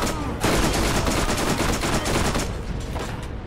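Assault rifle fire in the Borderlands shooter, loud dense bursts of rapid shots running almost without pause and tapering slightly toward the end.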